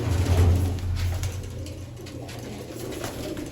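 Several large pigeons coo close by in low, throaty, repeated calls, most prominent at the start and softening afterward.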